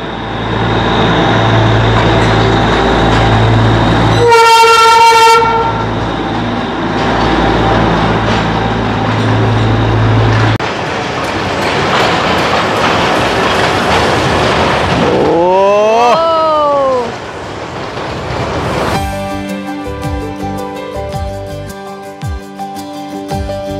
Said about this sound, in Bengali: ফাইনালি ট্রেন সোনালি, ওই তো ট্রেন।